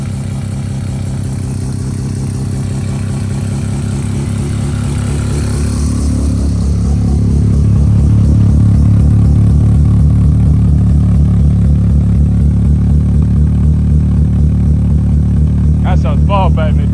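A Mazda 13B rotary engine running in an RX-5 project car, a loud, close, rhythmic idle that swells and steadies into a pulsing drone, with a brief higher-pitched whine near the end.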